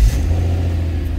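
A Jaguar S-Type engine left in neutral with the brake on rumbles low and steady, a loud burst at the very start settling into an even idle for about a second, with no voices.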